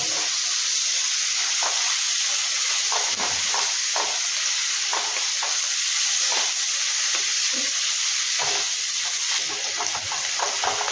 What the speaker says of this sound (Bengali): পেঁয়াজটা এবার অল্প ভেজে নিয়েছি